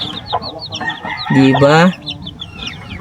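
Hens on a small farm cluck near the microphone, with a loud drawn-out cackle in the middle among lighter clucks and chirps, and a person speaks briefly.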